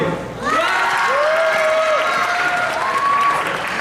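A high school lecture audience claps together in a steady burst of applause that lasts a few seconds, while a voice with a rising pitch carries over the clapping.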